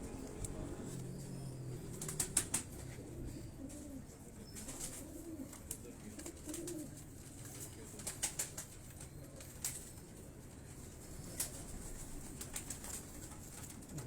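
Mixed-breed colored pigeons on a Lahore rooftop coo and flap their wings in scattered bursts, with a faint voice talking in the background throughout.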